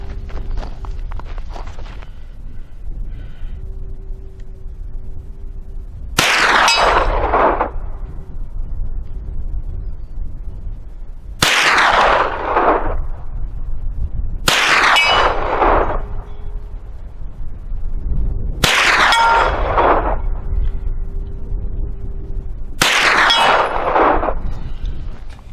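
Six loud, sharp pistol shots firing cheap Herter's 9mm FMJ ammunition at an outdoor range, spaced a few seconds apart and each ringing out with a long decaying echo, no talking between them.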